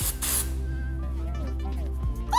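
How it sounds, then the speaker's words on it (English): Hairspray misted at the roots while styling vintage brushed curls, a short hissing burst near the start, then a steady low background with a voice talking over it. "Just gonna go in, spray at the root, shake it out."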